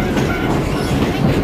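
Shimabara Railway trolley sightseeing train running on rails near Minamishimabara, a loud steady rumble with rhythmic clickety-clack of wheels, continuous and close.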